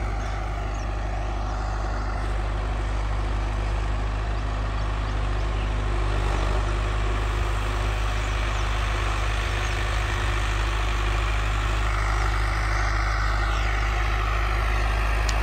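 A tractor engine runs steadily at around 1700 rpm out in a ploughed field, a loud continuous diesel rumble with a deep low throb that holds even throughout.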